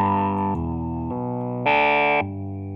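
Pilot Wave synthesizer playing back a programmed step sequence: a buzzy, distorted sustained tone stepping through a few pitches, one brighter, louder step near the end, alone and close.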